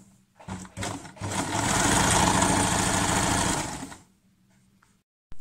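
A sewing machine stitches a blouse seam in one continuous run of about three seconds, a close, steady mechanical whir that starts and stops cleanly.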